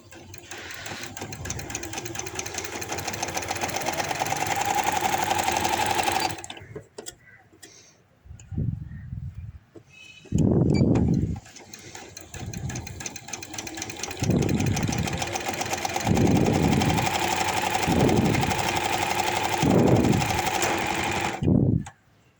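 A sewing machine stitches a baby boy's hoodie shirt in bursts: a long rapid mechanical run, a pause, then a series of shorter whirring runs separated by brief quiet gaps.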